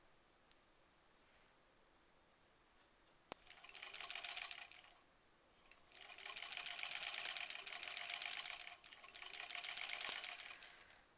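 A sewing machine stitches a basic quilt block, running in three steady bursts of fast mechanical whirring and clatter after a quiet start with a couple of sharp clicks.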